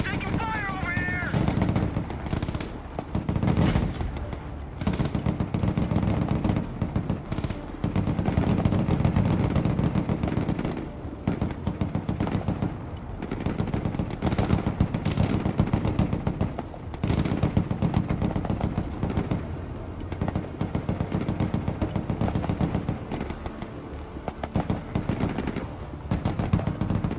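Dense, continuous gunfire and artillery rattle around a recon vehicle in the video game Broken Arrow, loud and sustained with rapid bursts and booms throughout.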